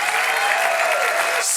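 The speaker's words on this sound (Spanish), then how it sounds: "Denle un aplauso al Señor porque Él es bueno." A church congregation claps during a sermon, a dense, loud wash of hands lasting only a moment.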